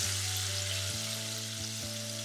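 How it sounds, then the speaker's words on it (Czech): Chicken strips with spice coating fry in hot oil for homemade KFC-style strips, giving a steady, dense sizzle throughout alongside a low steady hum, with no voices. "Občas je jakoby prohodíme, aby se nám tady na sebe nenaletěli a necháme pěkně smažit."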